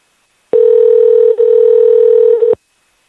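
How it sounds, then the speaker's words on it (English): A telephone ringback tone on an outgoing call plays as one steady, loud, unbroken burst of about two seconds, starting and stopping cleanly with silence around it. "it is ringing"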